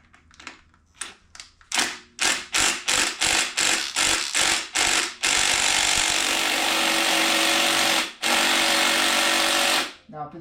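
An impact wrench works on the flywheel nut of a Kawasaki KE100, close and loud. It starts with a rapid series of short hammering bursts, then settles into one long continuous rattling run, briefly interrupted.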